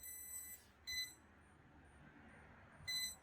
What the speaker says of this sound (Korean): 소리가 이렇게 삐삐삐삐 거리는 소리가 납니다.